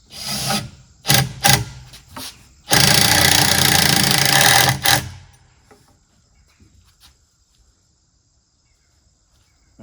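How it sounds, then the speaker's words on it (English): Construction screws driven into a wooden block on the back of a master closet cabinet, with several short whirring bursts and then one long grinding run of about two seconds, close and loud, before the workshop goes quiet. "We're going to use these construction screws to put this block on the back here."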